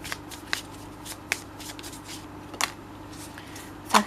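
Tarot cards are handled and shuffled quietly in a few soft, brief bursts of riffling over a faint steady background hum.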